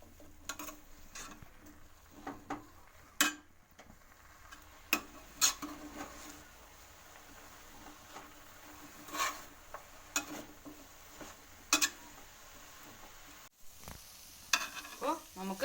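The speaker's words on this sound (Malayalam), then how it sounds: "കുറച്ചൊന്ന് കുടഞ്ഞതിന് ശേഷം നമുക്ക് ഇതൊന്ന് ഇളക്കി യോജിപ്പിക്കാം" Stirring drumstick leaves and jackfruit seeds in a pan after sprinkling water, faint soft sizzling with intermittent scraping and clicking strokes of the spoon.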